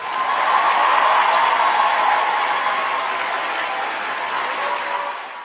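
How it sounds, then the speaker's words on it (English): A round of applause from a small audience rises quickly into a dense, loud patter of clapping, holds steady, then tapers slightly toward the end with no voices over it. "dare I give him a round of applause"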